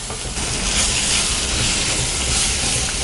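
Chicken sautés in a pan for Tamil-style chicken kulambu, giving a loud, continuous sizzling hiss close up that holds steady throughout with no talking.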